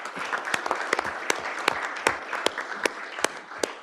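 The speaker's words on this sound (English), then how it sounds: "I just wanted to give a round of applause to the efforts in making sure that we" A room of attendees at a school district board meeting gives a short burst of applause, with sharp individual claps standing out over a dense, steady patter.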